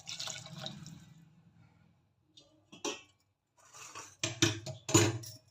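Boiled water poured onto rice and lentils for khichdi, heard as a few short splashing, dripping bursts with quiet gaps, close by, ending in a louder splashy pour.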